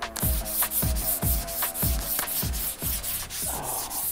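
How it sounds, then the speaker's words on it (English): Fiberglass body of a Factory 5 1935 truck build being sanded by hand, with steady, close, rhythmic rubbing strokes roughly twice a second, each a gritty swipe, continuing throughout with no talk. "sanding my fingertips away so I can turn everything green again"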